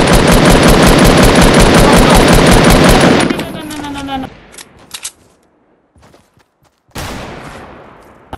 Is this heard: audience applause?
no